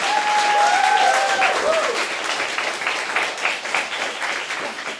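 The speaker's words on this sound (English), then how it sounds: "Why don't you stand up and we'll film a little clap." Audience applause for Michia at a business talk, a dense crowd clapping and cheering loudly and steadily throughout, with a few whistles and voices mixed in near the start.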